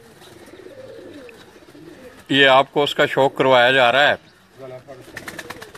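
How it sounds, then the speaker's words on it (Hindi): A Bateera pigeon, an old crossbred bird on a rooftop loft in Sialkot, coos in a run of loud, close, wavering calls in the middle, with someone talking briefly over it. "ये बटेरा कबूतर जो है"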